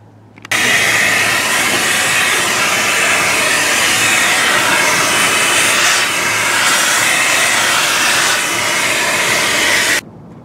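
A vacuum cleaner runs steadily at close range with a loud, constant hissing roar as it sucks leaves and small rocks out of a 2019 Subaru Ascent's interior, starting abruptly and cutting off near the end.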